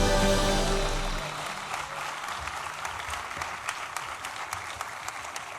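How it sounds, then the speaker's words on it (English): Audience applause at the India Voice Fest 2025 awards event, a dense wash of clapping that starts loud just after a tonal sound fades in the first second, then carries on steadily at a slightly lower level with scattered sharper claps. "Let me hear a big applause for that talent."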